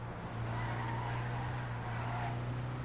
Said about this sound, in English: if you do notice that the engine idly kind of sounds a lot like a generator